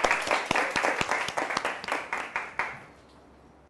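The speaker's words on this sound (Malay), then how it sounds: "Bagi tepukan dekat kawan kamu" Students in a chemistry classroom clap for a classmate who volunteered at the board, a short burst of distinct, rhythmic hand claps from a small group, close and clear, quickly tapering off into quiet.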